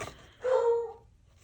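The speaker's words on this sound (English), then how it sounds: "Listen to a dog bark." A single dog bark rings out once, short and fairly clear, standing alone against a quiet indoor background.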